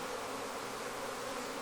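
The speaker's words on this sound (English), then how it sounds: "See all these guard bees take flight? They're not happy." Guard honey bees lifting off from a Flow Hive, a steady, dense buzzing drone that holds evenly throughout with no voices.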